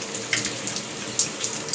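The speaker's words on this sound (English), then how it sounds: "It's not leaking, and it's shooting water out," Water sprays from a newly fixed shower head as a steady hiss, with a few sharper splashy bursts recurring, close and fairly loud, with no talking.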